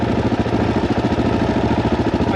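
A Suzuki DRZ400e motorcycle engine idles close by, a steady, loud single-cylinder thump with an even pulsing rhythm and no talking.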